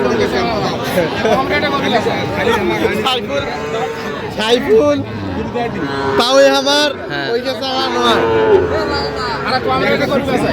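At a Dhaka cattle haat selling Sahiwal bulls, occasional lowing moos rise over a constant hubbub of crowd chatter and bargaining voices.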